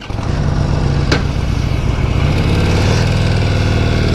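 Harley-Davidson Sportster 48 motorcycle engine running close by, a loud continuous rumbling idle with a sharp blip partway through, alone without talk.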